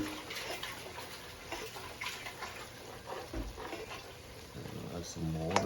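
Tap water splashes and pours into a cooking pot while black rice is being made, a steady wash of running water under people talking nearby.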